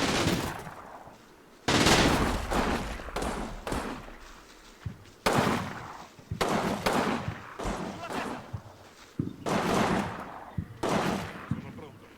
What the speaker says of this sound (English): That sounded like a medium machine gun.